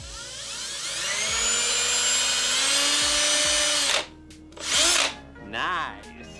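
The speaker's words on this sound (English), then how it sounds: "I pre-drilled the hole to make sure that the nail wouldn't split the board." A power drill whines steadily at high speed for about four seconds, then releases and gives two short bursts as it pre-drills a nail hole into a wooden board.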